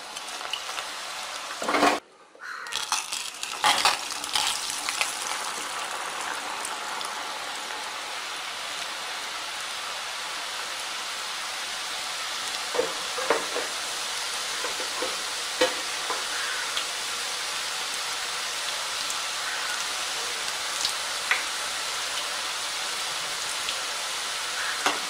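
Ribbon pakodi frying in hot oil gives a steady, close sizzle that crackles like light rain for the full stretch, with a few brief clatters and stirring knocks near the start.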